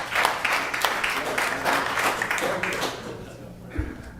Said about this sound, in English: I'm trying to discourage clapping for our speakers